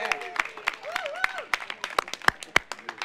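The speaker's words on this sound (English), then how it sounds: "Let's give Hercules another round of applause." Scattered clapping from a small crowd at a housing grand opening event, with individual claps audible under overlapping voices and cheers.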